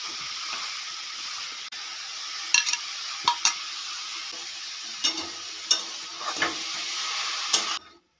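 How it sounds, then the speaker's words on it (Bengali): Grated carrots frying in a pan for carrot halwa, a steady close sizzle throughout with occasional sharp scrapes and taps of a spoon against the pan, ending abruptly. "এবারে গাজরগুলো ভালো করে ভেজে নেব।"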